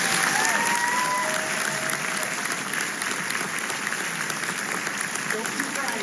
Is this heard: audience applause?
yes